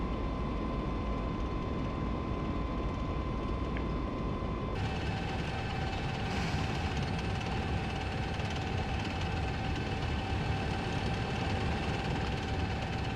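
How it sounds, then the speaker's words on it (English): An M1A2 tank in the Steel Beasts game, driving through snow. The turbine engine gives a steady, loud whine and rumble with a sustained high tone, and the tracks add a constant churning noise. The pitch shifts partway through, with no voices. "minus the roar of the turbine engine, the sound of the tracks hitting the snow"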